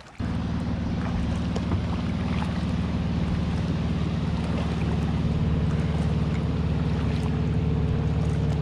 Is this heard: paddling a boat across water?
yes